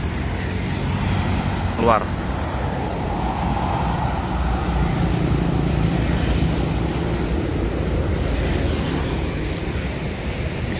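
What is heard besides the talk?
tour bus engine idling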